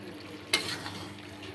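Mixed vegetables fry in ghee with garam masala as a spoon scrapes through them once, followed by a soft, steady sizzle, close and unaccompanied.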